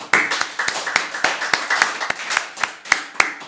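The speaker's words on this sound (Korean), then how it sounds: "우리 모두에게 우리 한번 격려의 박수 한번 해봅시다." Church congregation clapping together during a Sunday worship service, a steady run of sharp, close hand claps that swells and fades like applause with no talking over it.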